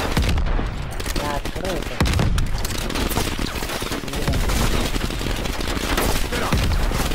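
Dense, continuous automatic gunfire and bursts from a Call of Duty Cold War match on PS4, loud and close throughout with heavy low booms, while a voice shouts over the shooting.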